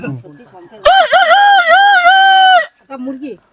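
A person imitates a chicken, a long drawn-out clucking call with a wavering pitch, followed by a brief spoken word.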